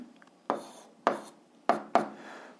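A pen writing an algebra equation on paper, four short scratchy strokes heard close and quiet, spaced about half a second apart in a silent room.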